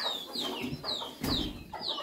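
Several chickens cluck and squawk in short, repeated calls, close by, with a faint background hum.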